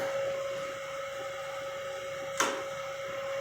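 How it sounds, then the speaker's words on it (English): Air compressor and air dryer running in a shop's compressor room, a steady mechanical hum with a constant tonal whine, plus one brief sharp hiss or click partway through. "Here's our dryer running. Here's the compressor."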